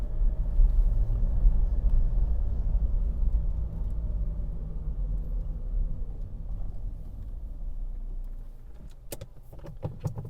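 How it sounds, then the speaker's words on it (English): Low engine rumble from a manual car pulling away on a hill start, steady under a cabin hum, with a few sharp clicks or knocks near the end; no talking. "Gas, biting point, and then just lift the clutch slowly as you increase the gas"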